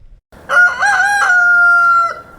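A rooster on a poultry farm in Durand, Wisconsin crows once, close and loud, in a single drawn-out cock-a-doodle-doo lasting about two seconds.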